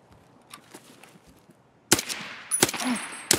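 Gunshots in a video game: a faint, distant crackle at first, then several loud, sharp reports near the end.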